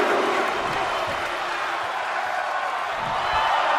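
Arena crowd roars steadily in a WWE 2K22 wrestling match, a dense, continuous wall of cheering at fairly loud level with no breaks.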